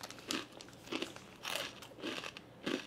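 Keto chips crunched and chewed close to the ear, five distinct crisp bites in a fairly even rhythm, each a sharp crackling burst.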